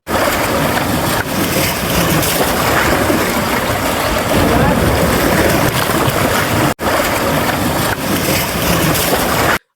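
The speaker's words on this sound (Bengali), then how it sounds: "সাগরের গর্জন আর শীতল বাতাস আপনার সারাদিনের ক্লান্তি এক নিমিষে দূর করে দেবে।" Sea waves roar steadily at Akilpur beach near Sitakunda, a loud, continuous wash of surf with no clear talk, broken only by a brief cut near the end.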